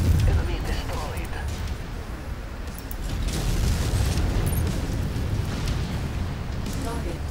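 Enemy mech blowing up in a MechWarrior 5 battle, a dense rumbling explosion with crackling debris and booms that swell midway, heavy and continuous over several seconds.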